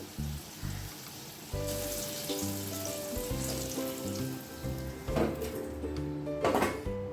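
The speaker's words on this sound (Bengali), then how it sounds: "তেলের মধ্যে আমি জিরে ফোড়ন দিয়ে দেবো" Cumin seeds dropped into hot oil in a pan give a steady sizzle and fry, loud and close, over a low hum, with brief louder crackling bursts near the end, no talking.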